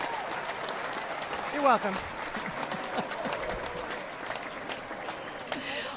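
Audience applause at a live debut show: a steady wash of clapping runs throughout, partly under a talking voice.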